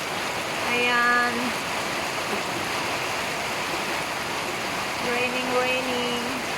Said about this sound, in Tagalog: Baguio City is raining.